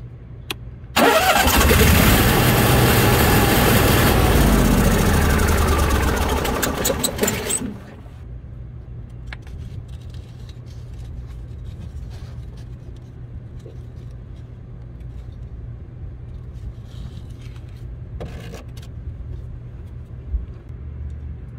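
An Onan gas generator engine cranks and catches with a loud, clattering start that lasts several seconds, then settles into a quieter, steady idling hum with occasional faint knocks.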